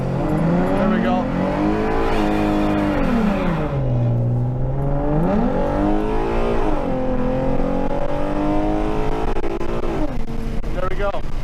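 A tuned 3.7-litre V6 Ford Mustang with 3.73 gears does a burnout, its engine revving hard and rising and falling in pitch through a loud, continuous roar close by, with people talking over it.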